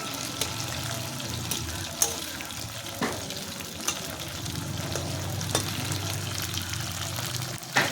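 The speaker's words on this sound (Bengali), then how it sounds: "একে একে সব মাছগুলোকে আমি উল্টে দিচ্ছি।" Bhetki (barramundi) fish pieces frying in hot oil, with a steady close sizzle throughout and occasional sharp clicks as the pieces are turned one by one.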